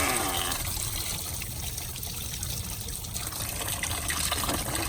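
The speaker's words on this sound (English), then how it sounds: "It's going to make a big splash." Engine coolant gushes and splashes out as the water pump is pulled from a Volkswagen T3 Touareg, a loud, steady watery rush filling the whole stretch with no talk.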